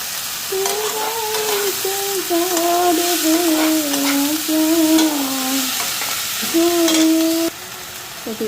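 Food hits a hot wok and crackles and sizzles steadily, with scattered pops. A wavering, hum-like tone runs over the frying throughout.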